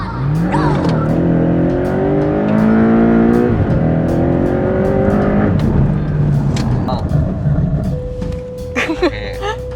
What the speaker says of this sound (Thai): จะสังเกตไหมครับว่ารถมันจะสามารถหยุดได้สั้นกว่า